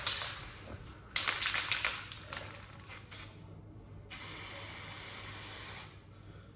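Base colour spray-painted onto a Volkswagen Transporter panel, with several short hissing bursts of the spray gun followed by one long, steady spray, close and loud with no talk.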